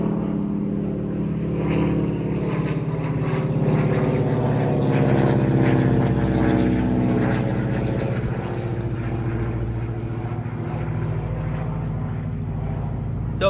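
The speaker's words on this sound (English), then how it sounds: "Sorry, there's a helicopter." Aircraft engine drone from a helicopter passing overhead outdoors in bighorn sheep country, a steady, loud, rumbling roar with a throbbing rotor beat that swells slightly mid-way and holds throughout, with no talk over it.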